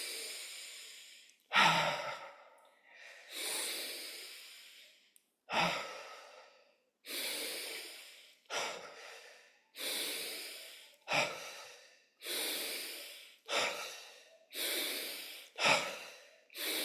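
Deep breaths are drawn in and released during a guided breathwork exercise, in about a dozen slow, strong inhale and exhale cycles, close and steady, with no talking.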